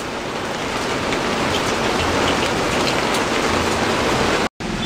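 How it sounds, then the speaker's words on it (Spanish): Heavy rain shower pours down in a dense, loud, continuous hiss of drops striking surfaces close by, broken by a very brief dropout near the end. "Mira, viste, ya está cediendo un poco la lluvia."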